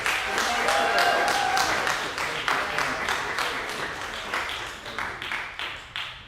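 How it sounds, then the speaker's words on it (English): Masterclass audience applauding after a vocal performance, close clapping that starts strong and gradually thins and fades toward the end. "And applause."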